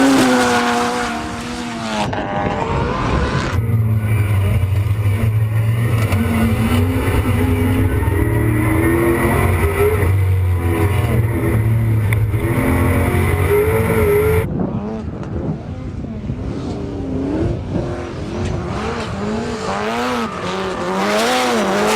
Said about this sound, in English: having a little drift session around the track, following each other